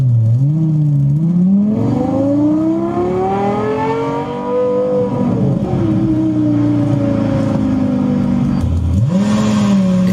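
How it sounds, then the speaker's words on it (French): A Lexus LFA V10 engine revs from a played recording, its pitch climbing in a long smooth rise, easing off, then dropping and picking up again, loud and close. "C'est un bruit de V10, c'est un moteur de Formule 1"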